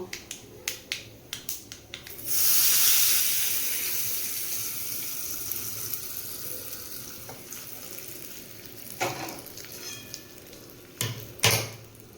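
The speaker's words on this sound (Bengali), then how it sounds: "তরকাটা রেডি করা হয়ে গেছে এবার গ্যাসটা বন্ধ করে দিলাম এবার এটাকে নিয়ে এর মধ্যে ঢেলে দেব" Hot tempering poured into peanut chutney after the gas is switched off, a sudden loud sizzle that swells then fades into a softer crackle, with a few clicks and clinks around it.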